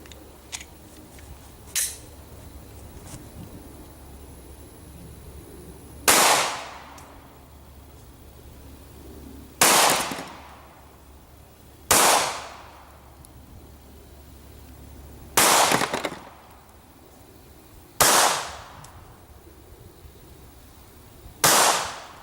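Six sharp, loud 9 mm pistol shots fired singly at irregular intervals outdoors, the loads Hornady Critical Defense and Federal HST, each crack followed by a short decaying echo over low background hum.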